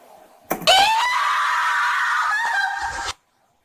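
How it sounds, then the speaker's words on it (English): A woman reporter in a Japanese ghost video screams one long, loud, piercing scream lasting nearly three seconds, then breaks off abruptly into silence. "As the reporter screams"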